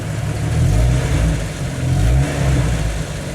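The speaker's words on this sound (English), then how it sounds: "But watch this, I give it a little bit of gas, it'll jump back up." Engine of a Jeep Wrangler YJ, suspected of a faulty oil pressure sending unit, rising from idle as gas is applied, with a low, steady hum that swells in two brief surges, close and continuous, with no talking.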